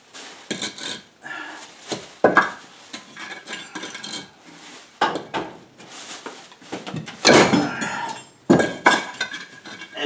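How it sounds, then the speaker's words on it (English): An old Heatilator fireplace is pried out of its alcove with a crowbar, giving irregular metallic clanks, scrapes and thuds in bursts separated by short pauses, fairly close and alone. "I'm using a crowbar to basically, as a lever, and I am prying this thing out of"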